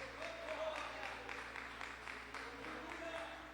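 Congregation in a church applauding, a steady wash of many hands clapping together at moderate level, with a hum of voices and music lingering underneath.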